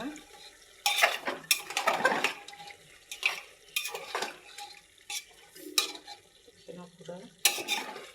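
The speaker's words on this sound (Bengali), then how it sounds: "মাংসগুলো কষানো হচ্ছে" Beef sautéing in a pan with black cumin (kalojira) for a bean-and-onion dish, bursts of sizzling and scraping as a spatula stirs the meat against the metal pan, coming in uneven strokes with quiet gaps between.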